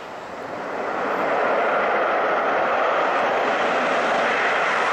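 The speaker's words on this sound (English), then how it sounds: "Oh, I love those Rolls-Royce engines." Rolls-Royce engines on a simulated A330 airliner in a flight simulator game after a crosswind landing, a loud, steady broadband roar that swells over the first second and then holds constant, with no talking.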